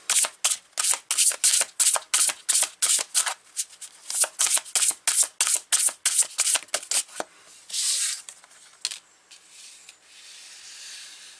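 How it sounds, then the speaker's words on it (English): Oracle cards being shuffled in a rapid, steady run of crisp riffling swishes, close and loud, slowing into a few softer rubs and a fading hiss at the end. "So let's grab an oracle card here."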